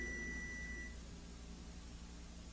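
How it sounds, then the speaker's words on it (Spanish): A continuity tester's buzzer sounds a steady high electronic tone for about a second, close by, then stops, leaving a quiet hum behind. "Primeramente comprobamos que el zumbador efectivamente funciona."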